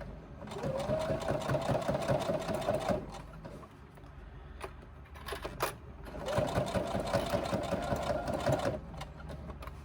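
A sewing machine stitches through the thick seam of a bulky crossbody bag in two steady runs of rapid needle clatter, separated by a short pause with a few handling knocks.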